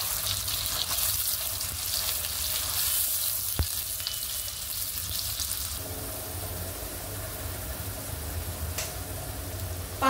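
Ground spice paste for kat vada sizzles and fries in hot oil in a pan, a steady close crackling hiss with occasional stirring clinks, loudness shifting partway through.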